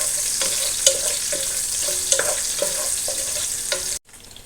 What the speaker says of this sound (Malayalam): ഇത് അതിൻ്റെ കൂടെ തന്നെ നമ്മൾ സവാളയും കൂടി ഇടുകയാണ് നല്ല രീതിയിലൊന്ന് ഇളക്കി കൊടുക്കണം